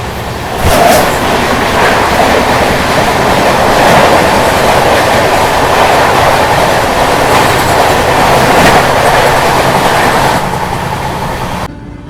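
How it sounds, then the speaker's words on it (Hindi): A Banaras to LTT Mumbai superfast express train passes close by for about twelve seconds, a loud, steady rumble with rhythmic clickety-clack of wheels over rail joints, fading slightly at the end. "अभी देखो सामने से आ रही है बनारस से LTT मुंबई जाने वाली सुपरफास्ट।"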